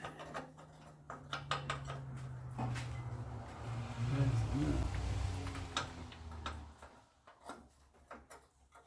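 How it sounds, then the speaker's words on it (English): A short 15 wrench clicks and clanks against metal during an engine change on a 2008 Dodge Nitro in a garage. Light ticking strikes come in uneven clusters, with a low rumbling hum swelling through the middle. "we use a short 15 wrench"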